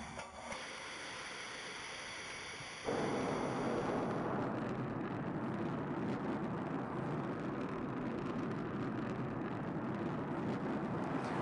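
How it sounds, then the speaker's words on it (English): A rocket the size of a 12-story building lifts off and hovers at about 40 meters, its main engine constantly adjusting pitch and yaw. The sound is a loud, steady broadband roar that surges abruptly and holds without a break. "You've never seen this before, a rocket blasting off"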